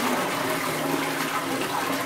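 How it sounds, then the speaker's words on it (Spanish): A newly fitted toilet cistern flush mechanism is tested with its lid off, sending a steady rush of draining water that stays loud and close for the whole moment. "Antes de montar la tapa ya podemos probar el mecanismo de la cisterna."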